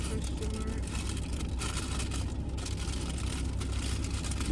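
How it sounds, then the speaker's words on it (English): A car engine idles steadily on a snowy day while warming up, a constant low rumble that fills the whole stretch with no breaks. "the car is running, but it's snowing outside, so it's heating up"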